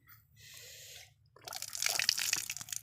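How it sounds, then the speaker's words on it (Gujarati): Water gushing from a tap at a farm bore well, a short splashing run, then a louder, brighter stream pouring and spattering, close by with no talk. "તો નળ ચાલુ કરીને પાણી પીએ."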